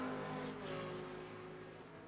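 The number 3 Porsche GT3 race car in a racing video game at Watkins Glen roars steadily at high revs, its loud engine drone holding close and shifting slightly in pitch.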